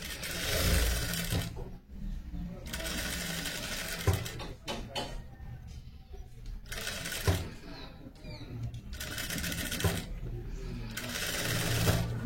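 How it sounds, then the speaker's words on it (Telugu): A sewing machine stitches lining and buckram for a kurti, running in loud, whirring bursts separated by short pauses, close to the listener. "లైనింగ్ అయినా బకరం అయినా 1 ఇంచ్ మీద మనం ఇలా మలిచి స్టిచ్చింగ్ చేసేసుకోవాలి."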